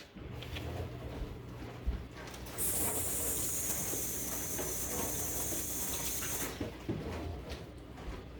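Water runs steadily into a kitchen sink as a container is rinsed out after handling lye water for soapmaking, a loud continuous hiss lasting several seconds with faint clatter before and after.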